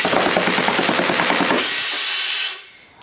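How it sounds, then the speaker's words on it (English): A homemade full-auto battery-powered air gun fires about 600 rounds per minute in one rapid, steady rattling burst of roughly one and a half seconds, then a hiss of air trails off. "now we get to see an over the head view of me shooting it"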